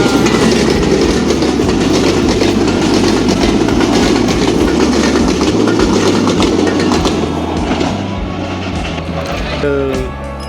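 A train passes very close on a railway line with a loud, continuous rumble and rhythmic wheel clatter. The roar eases slightly toward the end as a brief squeal emerges.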